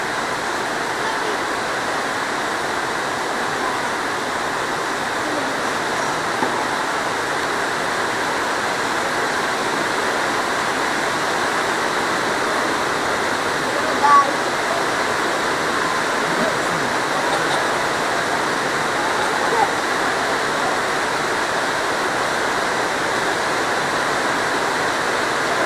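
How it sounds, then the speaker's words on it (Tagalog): Floodwater rushes steadily onto an outdoor tennis court in San Ildefonso, Bulacan, a continuous broadband wash like a stream or small waterfall, with only faint bits of background voices. "Ayun na, napapasok na yung tubig."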